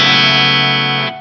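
A single sustained, bright twangy chord from a seven-string electric guitar on its back pickup with the tone knob pulled out, ringing loud and even for about a second before cutting off.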